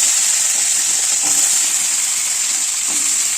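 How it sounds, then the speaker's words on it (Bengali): Potatoes fry in a pan for a home-cooked banana-flower (mocha) dish, giving a loud, steady oil sizzle and hiss with a couple of faint stirring knocks beneath. "আলুটা ভেজে নিই।"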